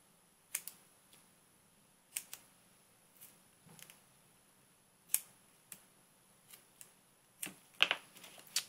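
Quiet, sparse snips of scissors cutting paper for a handmade Valentine's card, coming as isolated sharp clicks with short pauses, ending in a quicker cluster of cuts.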